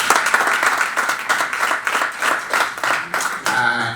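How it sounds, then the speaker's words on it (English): Dense round of hand clapping from an audience at an interfaith dialogue event at Panafest 2019 honoring Brother Kobna, loud and continuous, tapering as a few voices and a murmur come in at the end. "Brother Kobna deserves once again another round of applause."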